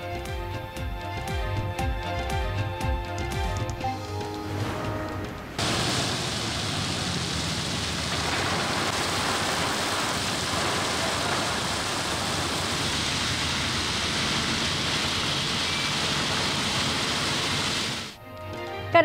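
A steady hiss of rain falls during the first winter rain in Karachi, a dense, even wash of sound lasting over ten seconds after a short musical opening.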